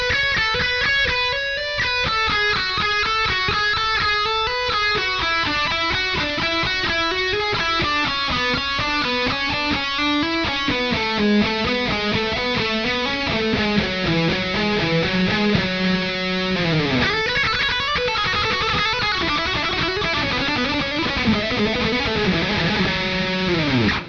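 Distorted electric guitar plays a fast ascending legato triplet run in combination style, a long continuous stream of quick notes climbing in pitch, loud and close with no talking.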